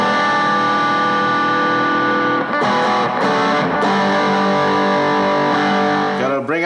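Thick, high-gain distorted electric guitar through a Boss Katana Mini X amp, sustaining heavy chords with a few sharp re-picks, ending in a bending, wobbling note; loud and up front.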